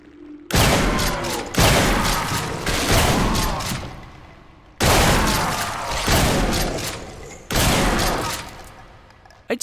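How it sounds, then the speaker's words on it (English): Four heavy shotgun blasts in the Doom 2 total conversion game, each a sharp broadband boom that decays slowly, spaced irregularly about one to three seconds apart, loud and close. "So I think I might actually use the other shotgun because it fires faster."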